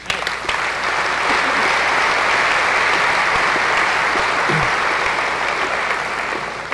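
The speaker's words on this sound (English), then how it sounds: "I think, a big applause" Loud, sustained applause from a large corporate audience at an IBM event in Dubai, a thick, even roar of clapping filling the room without pause.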